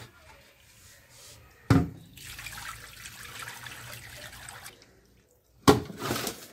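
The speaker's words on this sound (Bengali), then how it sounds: "একবার মাছগুলো আমি ধুয়ে নিয়েছিলাম, কিন্তু এবার আর একবার ধুয়ে নেবো।" Fish being washed in water for a Bengali golden fish kaliya, with splashing and running water that swells in two louder bursts amid a steady background trickle.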